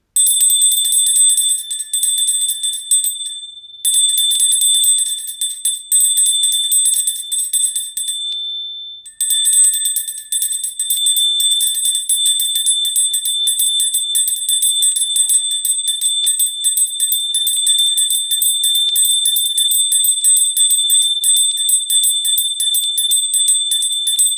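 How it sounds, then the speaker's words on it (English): A bright metal temple bell rings with a sustained, shimmering high tone that lingers for a long time, briefly cut off twice before ringing on steadily. "I bought this bell there, and I just want you to listen to it"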